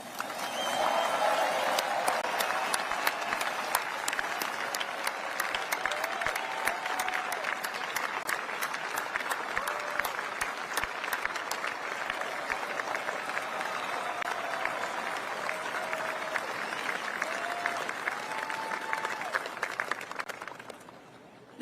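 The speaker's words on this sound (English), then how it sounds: "please join me in a round of applause for our team" A large audience at the B-21 stealth bomber unveiling ceremony applauds its team with dense, steady clapping that holds for about twenty seconds before fading out.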